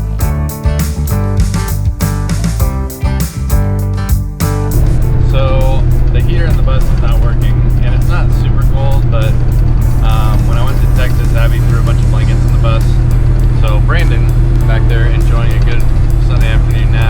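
A bus drives along the road toward a Bible camp, its engine giving a steady, loud low drone and road rumble that follows a brief stretch of choppy rhythmic sound.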